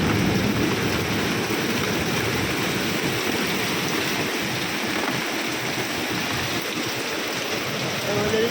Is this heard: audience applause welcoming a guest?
no